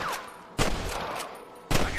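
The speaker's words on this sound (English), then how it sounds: "I can hear more gunshots." Two loud bursts of gunfire in the video game Red Dead Redemption crack out about a second apart, ringing over a noisy, reverberant background with no talking.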